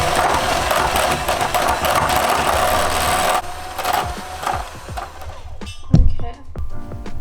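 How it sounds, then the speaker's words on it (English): A mixer whirring steadily as butter and cream cheese are beaten until creamy, a buzzing motor for several seconds that stops, followed by scattered knocks and scraping. "we're just gonna give that a good mix till it's all creamy too"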